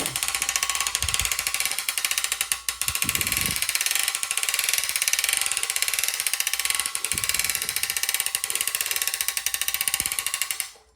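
Hand crank turning over the engine of a 1950s Sears Roto-Spader tiller, a loud fast ratcheting clatter running continuously with a few brief thumps and pauses before it stops near the end.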